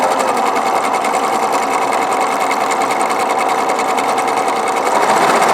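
A Husqvarna Viking 950 free-arm sewing machine runs steadily at full speed, a loud, continuous fast mechanical whirr and rapid stitching patter that holds even for several seconds with no talk.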